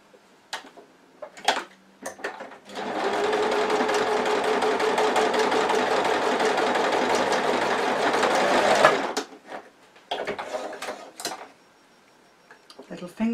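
A sewing machine stitches a fabric mug coaster in one long, steady whirring run of about six seconds, with short bursts of clicks and handling noise before and after.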